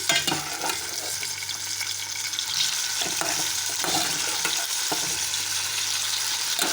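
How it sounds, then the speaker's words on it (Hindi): Boiled lotus stems frying in hot oil, a steady loud sizzle with occasional stirring scrapes throughout and no talk. "इसमें से उबले हुए बिह निकाल के ऑयल में डालेंगे"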